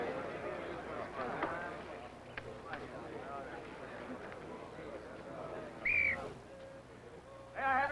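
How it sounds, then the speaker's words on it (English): Two short, shrill whistle blasts, the first loud near the end and a second cut off at the finish, over a murmur of background noise. "let's have a whistle"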